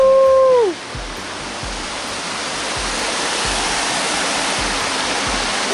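Cold, clear river water rushes in a steady, loud, broadband roar that fills the whole clip, with a brief whistling tone fading out at the start.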